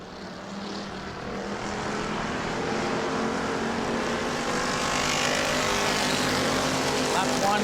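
Race cars in a Bomber B heat race at New Smyrna, with a four-car breakaway at the front, make a steady, loud engine roar that swells slightly and holds for the whole stretch.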